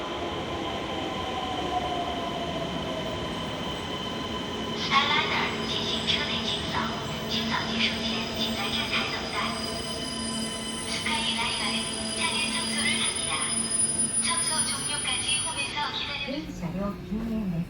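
A Skyliner train idles at a station platform in Japan with a steady hum, while a recorded announcement plays over it in a clear voice.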